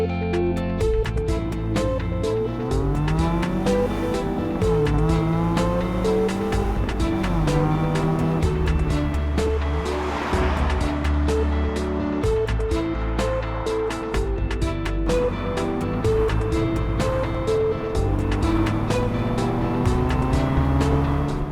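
A 2018 Subaru BRZ tS sports car driven hard, its engine revving up and down steadily through gear changes with rising and falling tones throughout, loud and continuous from inside or near the car, with no talking.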